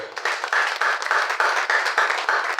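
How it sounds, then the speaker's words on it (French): A church congregation claps for the Lord in a steady burst of applause, with many hands clapping in quick, pulsing waves throughout. "Est-ce qu'on peut acclamer pour le Seigneur?"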